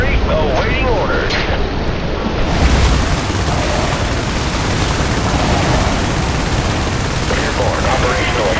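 A heavy airstrike explosion in the video game IS Defense, a broad loud roaring blast that rolls on as sustained rumbling noise.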